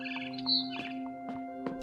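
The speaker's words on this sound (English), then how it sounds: "It was a barn swallow going back to her nest." A barn swallow chirps in short, bright calls outside a window in What Remains of Edith Finch, over a sustained tonal music drone, fairly faint.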